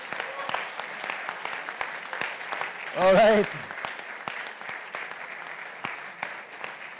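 A closing-ceremony audience applauds a bronze medalist at a programming contest, a steady broad clatter of clapping that runs throughout, with a short spoken phrase breaking in near the middle.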